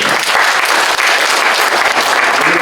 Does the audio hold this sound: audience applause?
yes